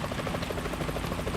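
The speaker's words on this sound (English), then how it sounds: "Is that a chopper I just heard?" Helicopter in Metal Gear Solid 2: Sons of Liberty, a steady rapid rotor chop with a throbbing beat, moderately loud and continuous, with no talking.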